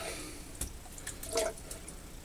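Water from a tap wetting a cake of Palmolive shaving soap, a faint dripping and trickling with a few soft splashes over quiet background hiss.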